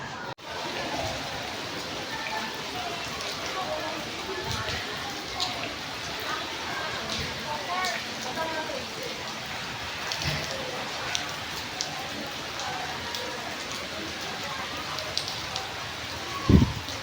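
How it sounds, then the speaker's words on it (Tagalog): Steady rain falling during a typhoon and monsoon in Navotas City, a continuous broadband wash of drops on surfaces outdoors near a school, with one sharper knock near the end. "Maulan pa rin. Maulan pa rin siya."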